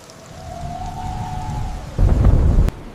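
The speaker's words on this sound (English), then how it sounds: "The great storm has reached its peak." A great storm at Cape Horn sweeps through with a rising rumble of wind and rain, then a heavy burst of thunder near the end that cuts off sharply.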